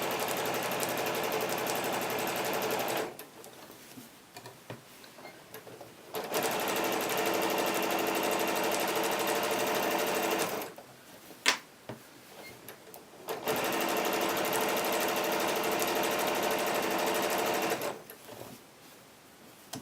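A sewing machine fitted with a 1/4 inch foot stitches a quilt in steady whirring runs, stopping and restarting several times, with quiet pauses and small handling clicks between bursts.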